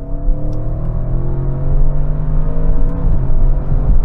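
An Audi RS6 accelerates hard from 50 mph in third gear while racing a Tesla Model X, its engine note rising steadily in a loud, close in-cabin drone with no talking.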